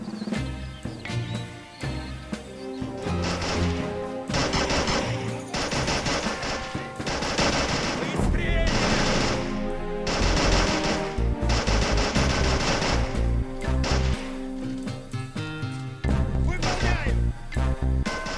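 German machine guns in the Men of War video game fire long, dense bursts of automatic fire with little pause, loud and close, layered with scattered impacts and crashes.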